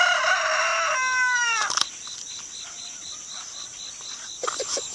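A rooster crows loudly up close, followed by quieter clucking and soft chicken sounds in a calm outdoor setting.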